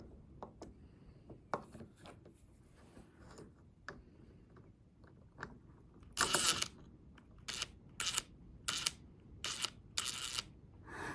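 A screwdriver works slot-head screws on a toy model, a series of quiet close clicks and small scrapes that turn into louder bursts of rasping metal-on-metal grinding, with no voices.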